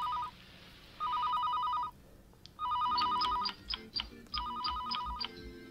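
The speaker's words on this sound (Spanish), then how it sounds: "¡Ay, qué lata da ese teléfono!" A telephone rings in a Sailor Moon cartoon episode, repeated trilling electronic bursts in separate rings with short gaps, close and clear, with scattered sound effects between later rings.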